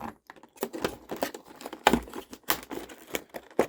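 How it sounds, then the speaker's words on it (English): Short scraping and slicing bursts with crinkly plastic rustles, a hobby knife working through diecast toy packaging up close, in irregular quick strokes. "I'm going to do that with a little hobby knife"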